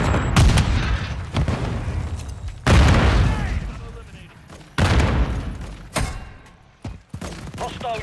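Frag grenades and gunfire go off in a Call of Duty match, several loud booming blasts and bursts spaced a couple of seconds apart, with rattling shots between them and voices under the action.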